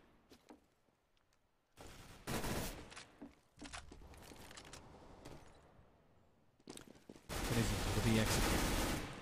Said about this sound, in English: With a jumping P90 shot on Merida.